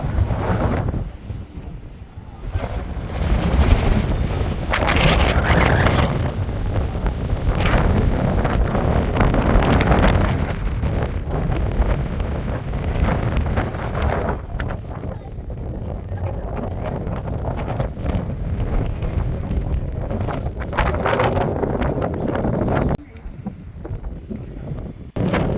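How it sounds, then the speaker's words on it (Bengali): Strong cold wind blows hard across the microphone on a clear day in Bhutan, a loud, continuous rushing roar with gusting buffets and a brief dip near the end. "এবং খুব হাওয়া চলছে"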